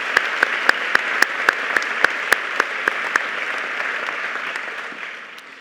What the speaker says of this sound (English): let's still give him some applause